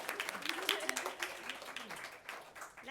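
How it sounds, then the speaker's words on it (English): A school audience claps for a teacher at an elementary school book bowl event, a short burst of mixed, fairly close applause with voices and chatter running through it. "Let's give her a round of applause."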